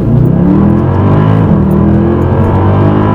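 A Mercedes E63 with a 6-litre V8 hums steadily at cruising speed on a motorway, a low, continuous drone with road noise, no talking.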